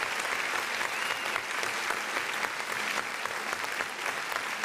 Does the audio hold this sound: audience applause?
yes